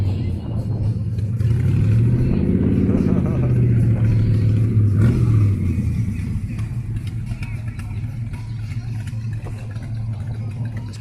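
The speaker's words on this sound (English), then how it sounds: "It's cool to hear these things run." Car engines rumble nearby, one revving up and easing off, with indistinct voices talking faintly over the steady engine noise.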